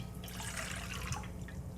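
Warm water at about 100 degrees poured into a container for yeast while making bread, a soft continuous trickling splash, faint and close.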